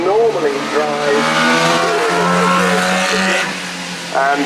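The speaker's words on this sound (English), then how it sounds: "Now then, this is the Porsche 919." Porsche 919 race car at the Goodwood Festival of Speed hill climb, a high steady engine whine with a rising pitch as it accelerates past, loud, with a commentator talking over it.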